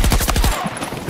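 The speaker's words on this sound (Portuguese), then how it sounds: "um tiro, que foi isso?" Battlefield 2042 gunfire from the M416 rifle comes as a rapid, loud automatic burst of close shots. The burst fades into a noisy rumble after about half a second.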